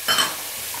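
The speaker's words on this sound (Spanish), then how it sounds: "Vamos rebogando, lentamente, sin prisas." Onion, leek, pepper, courgette, garlic and mushrooms being stirred in a hot pan, one brief scraping stir with a soft sizzle that fades quickly, close and alone.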